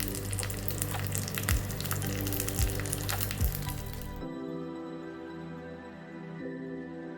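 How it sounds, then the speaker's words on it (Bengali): Mustard seeds tempering in hot oil while making dhokla: dense crackling sizzle with a few sharp pops, loud and close, then cutting to a quieter steady hiss with faint tones. "একটু সর্ষে ফোড়ন দিলাম।"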